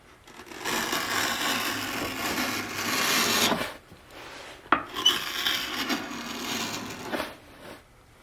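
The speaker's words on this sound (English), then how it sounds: "the main part of this you can just get with the scraper" A card scraper drawn across an old wooden chair during hand-tool restoration, producing steady rasping strokes up close, with a couple of brief pauses and a sharp knock between passes.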